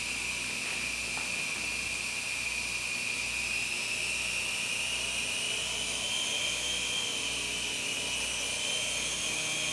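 A HELO touch-controlled toy helicopter flies with a steady high-pitched electric whine and a fast rotor buzz, fairly faint and constant throughout.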